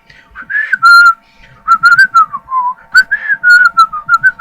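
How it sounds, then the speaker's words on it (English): A bright whistled melody in a Eurovision 2014 song, short lilting phrases rising and falling, loud and close, with brief pauses between phrases. "There was this whistling melody"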